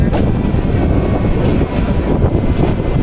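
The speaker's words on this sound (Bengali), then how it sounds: "লালমনি এক্সপ্রেস ট্রেনটি বোনারপাড়া রেলওয়ে স্টেশনে প্রবেশ করলো" The Lalmoni Express train pulls into Bonarpara railway station with a loud, close, continuous rumble of wheels and carriages and rhythmic rail clatter, and no one speaks.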